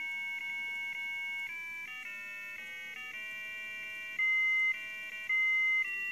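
A piezo buzzer driven by a Raspberry Pi plays a film theme as a sequence of shrill, pure electronic tones, each note held steadily before stepping to the next, loud and close with no voices.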